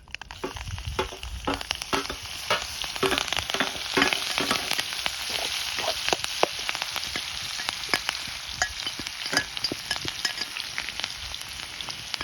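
Green chilli and asafoetida hitting hot oil for dahi tikhari, a dense, crackling sizzle with rapid popping spatters that runs continuously, close and fairly loud with no talking.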